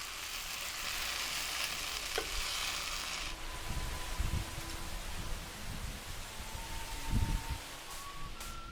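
Round pumpkin being pan-fried and stir-fried as a side dish, a steady bright sizzle of oil with intermittent stirring scrapes and clatters, close and continuous throughout.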